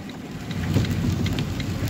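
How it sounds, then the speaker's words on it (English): Heavy rain drums on a moving car during a storm, a dense, loud, steady patter with low rumbling road and cabin noise filling the whole stretch. "This rain stinks, but I hope you guys can see these stupid windshield wipers that suck."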